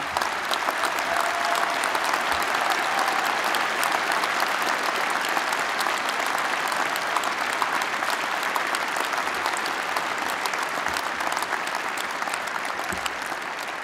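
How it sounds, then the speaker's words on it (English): Sustained audience applause for the families at an Imperial College postgraduate awards ceremony, a dense, even wash of many hands clapping continuously for the whole stretch, full and close with no talk. "I really would like an applause to the families because many of them have come from many, many miles away."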